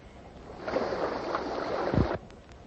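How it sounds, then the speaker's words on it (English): Rushing water in an old-time radio drama sweeps in as a loud, broad surging wash that builds and then cuts off abruptly after about two seconds, with a low thump near the end and no talking. "I know I heard rushing water."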